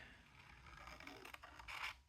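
Sharp scissors snip and scrape through paper while fussy cutting out an image, a quiet close-up series of short cuts that grows a little louder toward the end, with no talking.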